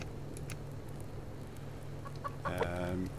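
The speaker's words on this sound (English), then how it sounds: "Chickens need feeding." Chickens clucking in the survival video game Subsistence, a low steady background hum for most of the stretch before a brief, louder burst of clucking near the end.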